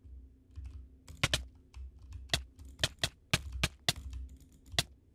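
Fast mouse clicks and keyboard keys tapped during a PvP game, heard as sharp, close, irregular clicks in bursts over a low background hum, with no talk.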